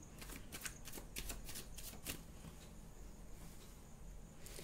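Tarot cards being shuffled by hand, a rapid series of crisp riffling flutters and soft slaps, close and quiet, with no talking.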